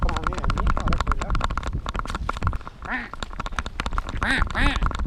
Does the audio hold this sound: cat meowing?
no